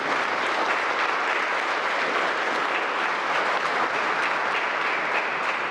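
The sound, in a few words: congregation applause in church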